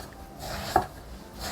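A knife cuts thickly through eggplant on a cutting board while braised eggplant and tofu is being made. There is a single soft, close cutting thump against a quiet room background.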